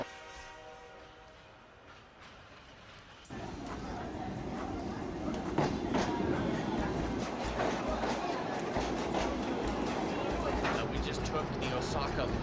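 An Osaka Loop Line train rumbles loudly, the noise swelling suddenly and holding as a steady roar with clatter, while people talk over it.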